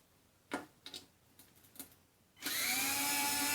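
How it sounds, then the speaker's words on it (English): Several short, close clicks as screws are backed out of a Galant VR4 intake part, followed by a sudden loud, steady whirring rush like a power tool or vacuum starting up. "let's go take the screws out on this bad boy and see what's inside here"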